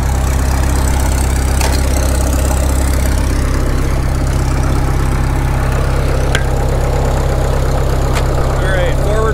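A Caterpillar D2 bulldozer, run again after sitting for 20 years, idles with a loud, steady low rumble that stays constant throughout, broken only by a couple of faint metallic ticks.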